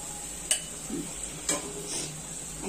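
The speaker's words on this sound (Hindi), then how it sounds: "अच्छे से डाल के थोड़ा और दो मिनट फ्राई करती हूँ" Chicken masala frying in a pan: a quiet, steady sizzle with two sharp utensil clicks against the pan about a second apart, fairly soft and close, no speech.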